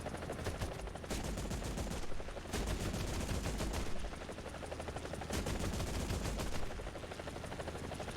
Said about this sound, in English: when I fire the 30mm turrets, it's also firing the 40mm grenade launcher